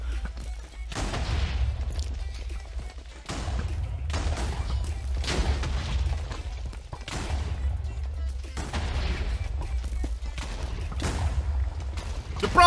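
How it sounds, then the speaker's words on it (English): Repeated heavy TNT explosions in Minecraft go off one after another, about five big blasts with rumbling decay between them, loud and chaotic. "there's so many explosions I can't see anything"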